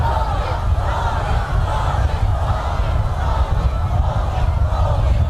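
A huge crowd in the streets of Pyongyang cheers and chants in waves for Kim Jong Un and Moon Jae-in at an inter-Korean summit, a loud continuous roar with rhythmic shouted calls.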